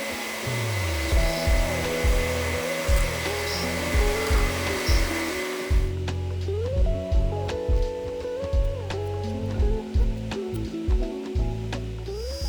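Steady milling machine whine with a rhythmic, repeating grind as the mill bit passes across the top of a knife handle block, loud and close, no talking.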